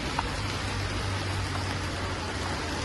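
Steady rain falls in an even, unbroken wash during a trip to the market by motorbike. It holds at the same level throughout, with no voices.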